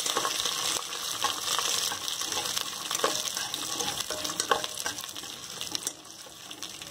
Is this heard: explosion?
no